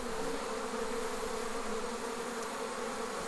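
A honeybee swarm gives off a steady, dense buzz, constant and fairly close, with no voices over it.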